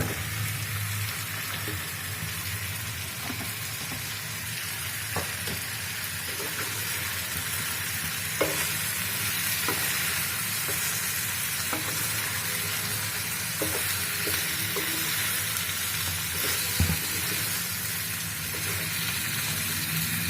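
Boiled crabs drop into masala frying in a pan, giving a steady close sizzle with a few soft clinks and stirring scrapes throughout.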